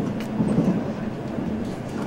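Interior rumble of a KTX high-speed train riding on rails, a steady low roar with a faint tonal whine, continuous and close, without distinct clacks.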